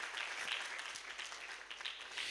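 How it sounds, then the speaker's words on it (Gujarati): An audience at a Mrunal Foundation 2019 performance claps for the performers, a faint, steady wash of applause heard from a distance with no clear speech. "આ બધા જ કલાકારો જે છે એમની માટે એક તાળી પાડીએ"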